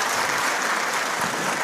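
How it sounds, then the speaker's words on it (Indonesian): Audience applause at an Indonesian public gathering honoring women leaders, a steady dense wash of clapping throughout the short stretch, fairly loud and continuous with no break. "kita beri tepuk tangan untuk mereka."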